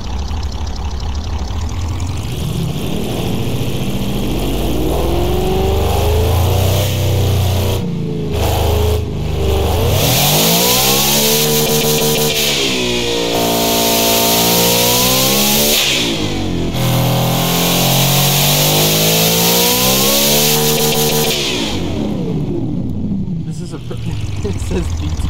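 A huge 18-liter engine in the Automation/BeamNG game revs loud and close, its pitch climbing and falling in several long sweeps with a rough, throaty idle between them.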